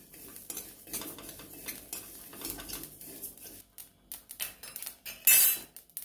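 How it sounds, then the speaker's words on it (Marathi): Niger seeds rattle and scrape as a spoon stirs them while they roast dry in a hot kadhai, making close, busy metallic clinks and sharp scrapes with no talking. "आपण आता कढई गरम करून घेतलेली आहे. त्याच्यामध्ये 1 वाटी कारळे टाकून घेणार आहोत."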